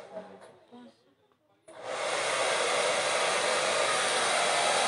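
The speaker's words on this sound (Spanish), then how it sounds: "A ver, chicas, un ratito voy a secar la carita." A hair dryer switches on and runs steadily, a loud continuous whooshing hiss as it dries the face of a handmade cloth doll, after a short stretch of quiet voice and handling sounds.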